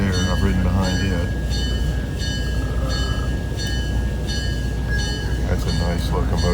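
Southern Railway 4501 steam locomotive at a railroad museum, a loud continuous rumble of the train rolling past close by, with rattling wheels and a sustained high whistle-like tone over the noise.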